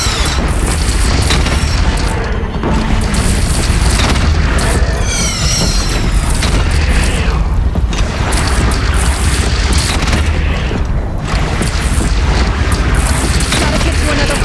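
Heavy cannon fire in the Horizon Zero Dawn video game, with repeated deep booms and blasts layered over a dense, continuous roar of battle, loud throughout, with occasional voices underneath.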